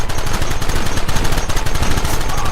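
Constant gunfire in a Red Dead Redemption gameplay mission, loud and close, a fast unbroken rattle of overlapping shots.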